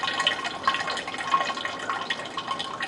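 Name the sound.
activated yeast water poured into wine carboy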